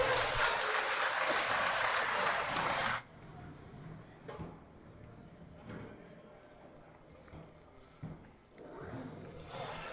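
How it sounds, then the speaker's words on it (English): Audience applause for combat robots at a robot fighting event, a loud dense burst of clapping for about three seconds that cuts off abruptly, leaving quieter crowd murmur and scattered noises. "Let's give a round of applause for all of our robots."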